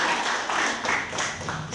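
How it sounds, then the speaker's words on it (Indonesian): A room of school students claps for a presenting language-family group at a school literacy event, a dense, steady patter of many hands that fills the whole moment without a break. "tepuk tangan dulu untuk kelompok rumpun bahasa"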